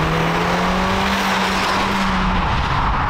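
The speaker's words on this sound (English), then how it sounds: "The exhaust on this thing is so quiet, but also just sounds awful." Ford Fiesta ST Mk7 hot hatch engine and exhaust, a steady, fairly subdued drone with a low droning tone that holds for about two and a half seconds before fading, continuous with no talk over it.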